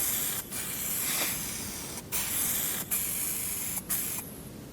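Spray paint hisses steadily onto a Dodge Viper V10 in Car Mechanic Simulator 21, a continuous loud spray broken by several short pauses.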